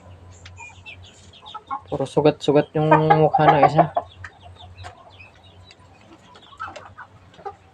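Roosters and chickens cluck on a farm, with a white rooster among them, in a loud close burst of squawking mid-clip while someone talks before and after the calls.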